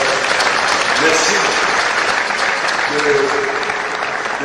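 Church congregation applauding and cheering loudly and continuously, a dense wash of clapping with voices mixed in throughout.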